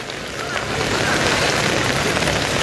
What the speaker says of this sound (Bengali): জোরে বৃষ্টি এলো রে